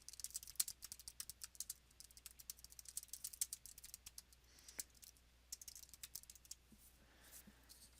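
Faint, rapid clicking of computer keyboard keys as notes are typed into a Cornell notes layout, with a few short pauses between bursts.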